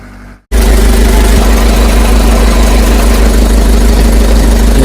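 Loud, steady diesel truck engine idling close by as a loaded cattle transport truck gets ready to depart, starting abruptly after a quiet moment and holding a constant low drone.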